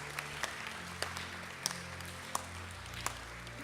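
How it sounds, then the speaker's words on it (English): Audience applause for the girls of a beauty pageant, steady hand-clapping from a seated crowd that holds evenly throughout, with a few sharper individual claps standing out near the front. "The girls in the beauty pageant, let's give them a round of applause"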